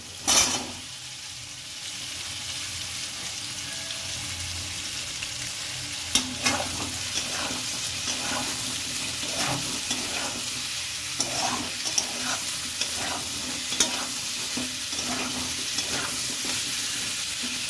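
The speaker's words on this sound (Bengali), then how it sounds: "এর মধ্যে দিয়ে দেবো কেটে রাখা সবজি। এখানে আমি নিয়েছি বেগুন, আলু আর কুমড়ো।" Cut eggplant, potato and pumpkin fry in a pan, sizzling steadily throughout. Repeated scraping stir strokes start partway in and fall into a loose rhythm over the sizzle, close and alone.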